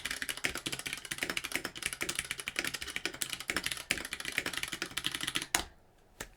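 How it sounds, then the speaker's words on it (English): Clicky keyboard with rainbow keys typed on rapidly, a dense close clatter of key presses for several seconds that ends in a final louder clack followed by quiet. "I know that one of my best friends, Binky, hates the clickety clack of these kind of keys."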